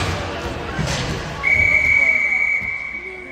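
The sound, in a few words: referee's long loud whistle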